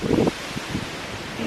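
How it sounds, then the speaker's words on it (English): Gusty outdoor wind buffets a microphone, with a loud rumbling burst at the start, then softer rustling gusts that rise and fall throughout. "I hope you can hear me. It's so windy."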